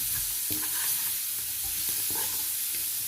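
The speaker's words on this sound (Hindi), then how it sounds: "चनों को भी अच्छी तरह से हमने मिलाना है" Chickpeas for spicy chana chaat are stirred in a pan with a steady sizzle and repeated scraping of the spoon, close and continuous, with no talking.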